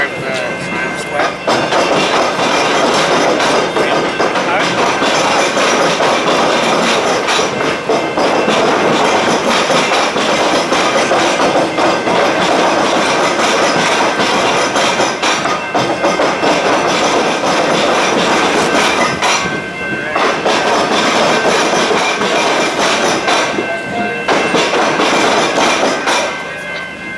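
A Melbourne tram passes through Glen Huntly tram square with a loud, sustained rumble and clatter of wheels on rails, briefly dipping twice, while voices are heard nearby.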